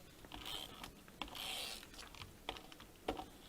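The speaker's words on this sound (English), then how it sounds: "We'll use our tape runner for these." Tape runner dispensing adhesive onto card panels at a craft table: faint, close scratchy rasps and short clicks in quick irregular strokes, with soft zipping swipes between them.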